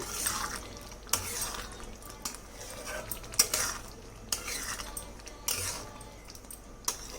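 A spoon stirs kasuri methi into matar paneer in a pan, with a soft background sizzle and intermittent scrapes and clinks of utensil against metal, several of them sharp and close.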